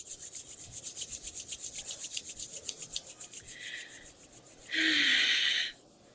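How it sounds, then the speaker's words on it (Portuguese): Hands rubbing briskly together to warm them during a guided relaxation exercise, a steady rhythmic series of soft close swishing strokes, ending in a louder, faster burst of friction. "Vamos esfregar as mãos e aquecer as mãos, esfregando uma na outra."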